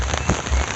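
Rain patters down steadily on surfaces in Entebbe, Uganda, a dense, close spatter with a few louder drops, no talking.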